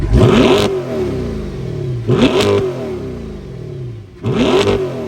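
Chevrolet Corvette E-Ray hybrid exhaust revved three times, each a sharp rising blip that falls away, spaced about two seconds apart, loud and close with a whirring idle between.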